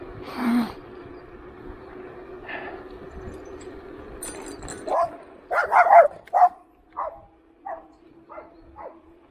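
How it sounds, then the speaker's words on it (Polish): An aggressive unmuzzled dog barks outdoors, a few scattered yelps at first, then a burst of sharp barks followed by a steady series that gradually spaces out, moderately near. "Znowu agresywny pies prawie zęby wystawione i bez kagańca."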